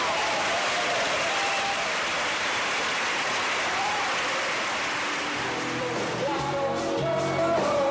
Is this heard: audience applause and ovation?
yes